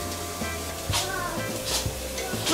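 Quiet sizzling and scraping as curry ingredients are stir-fried in a pan, with a few soft clinks and stirring sounds over a low background hum.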